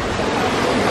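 Sea waves at Badiang Spring Resort in Valencia, Bohol, heard as a steady, close wash of surf that fills the whole moment without a break.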